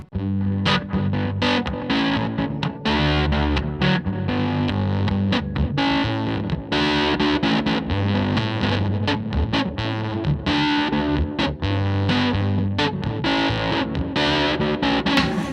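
Electric guitar played through a noisy effect pedal with an Echo Nugget and ambient delay, distorted and washy with steady rhythmic chords and notes, loud and continuous with no talk.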